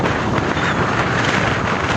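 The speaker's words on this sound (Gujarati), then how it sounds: "અત્યારે તમને ફૂલ પવન આવી રહ્યો છે, તો કદાચ તમને સાંભળવામાં તકલીફ પડે" Strong wind buffets a microphone beside the overflowing Shetrunji Dam near Palitana in a constant, loud, rumbling rush that covers everything else.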